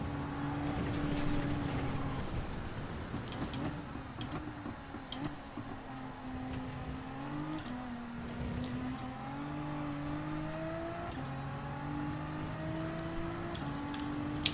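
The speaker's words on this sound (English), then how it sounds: "I like the sound of the engine on here as well. I like the turbo. Yeah, the little turbo whistle." Racing car engine in a racing video game during a long stint, a steady sustained drone with shifting pitch as revs rise and fall, plus a thin high turbo whistle running over it throughout.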